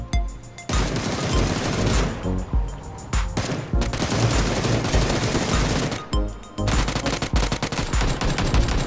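Continuous loud automatic gunfire rattles through a PUBG battle, dense volleys broken by a few brief pauses, close and dominant with no talking.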